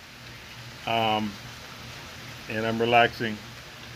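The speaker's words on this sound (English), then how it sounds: "But it's raining. It's a beautiful rainy day." Steady rain falls around a back porch on a rainy day, a soft constant hiss beneath a person speaking in two short bursts.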